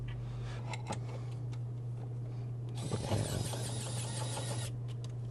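A small xCool mini electric screwdriver runs for about two seconds, giving a close, high whirring buzz over a low steady hum, with faint clicks before and after.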